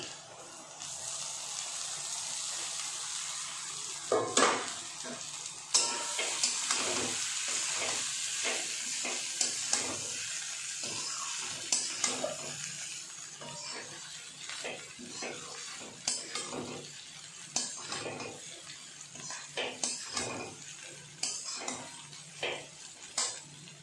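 Flattened rice being stirred in a pan, repeated metallic scrapes and clinks of a spoon over a faint sizzle, in bursts and pauses.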